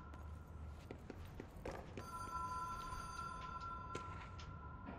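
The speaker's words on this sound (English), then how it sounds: "I can hear the phone ringing." A telephone ringing in the video game Control, repeated electronic bell rings over a quiet ambient background with faint footstep-like taps, moderately near.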